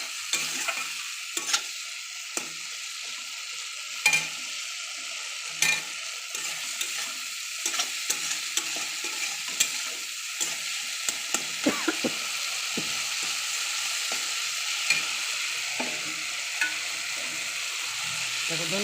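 Tomato and slit green chillies sizzling and frying in hot oil, a steady bright crackle with intermittent stirring scrapes throughout, fairly close and without talk.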